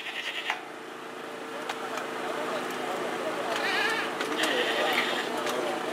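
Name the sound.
goats bleating at a livestock fair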